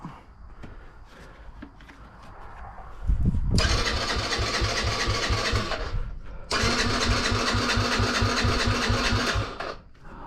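A 2001 Yamaha Raptor 50cc ATV that has sat outside for three years cranks and sputters, then fires into a rapid buzzing idle twice, with a brief drop between the two runs.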